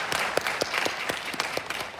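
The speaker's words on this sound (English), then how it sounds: "Please give them a hand of applause" A school audience at a Black History Month program applauds student performers, with distinct individual claps standing out over a steady patter of group clapping, fairly close and lively throughout.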